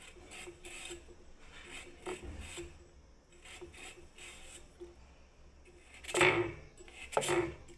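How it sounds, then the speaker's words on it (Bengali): Kitchen knife chopping carrot on a cutting board in a home kitchen, a run of quiet, rhythmic close taps followed by two louder, sharper knocks near the end. "দেখুন বন্ধুরা, গাজরটাকেও কেটে নিচ্ছি আমি।"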